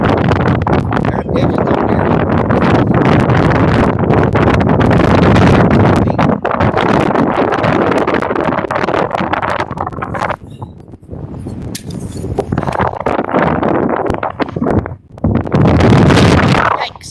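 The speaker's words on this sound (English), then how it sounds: "the wind's blowing so much, we're about ready to shut her down" Strong gusty wind buffets the microphone outdoors during a bass fishing outing, a loud continuous roar with brief lulls near the end.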